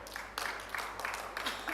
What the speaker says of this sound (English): a well-deserved round of applause from the crowd